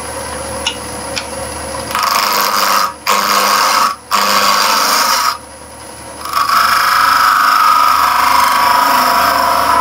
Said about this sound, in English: I'll use the same bowl gouge and we'll just clean up that front surface again